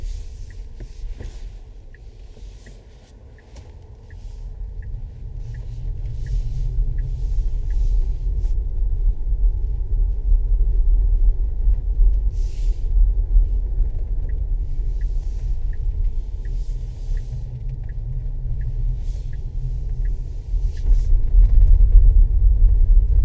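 A car drives along a road in a steady low rumble of engine and tyres heard from inside the cabin, with faint ticking clicks on top, briefly easing before building and growing louder near the end.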